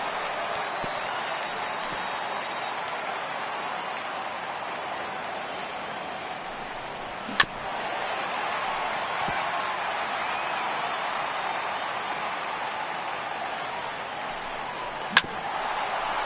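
A restless home crowd fills a ballpark in MLB The Show 18, a steady broad stadium murmur that runs throughout, broken by two sharp, isolated knocks.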